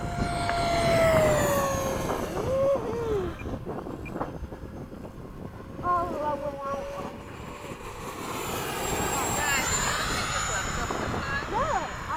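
An FMS 80mm Hawk model jet taxis out and takes off, its electric ducted fan whine rising and sweeping in pitch over steady wind noise, with people talking nearby.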